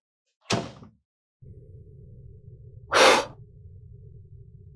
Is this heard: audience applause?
no